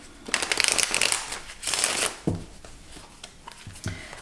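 Tarot cards being shuffled for a reading, a run of quick riffling flutters followed by a few softer slaps and shuffles, close and clear with no talking.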